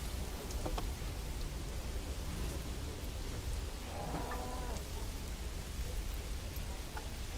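Heavy rain falls in the video game Manor Lords as a constant, even hiss of downpour, with a few faint tonal game sounds surfacing briefly midway and no talk.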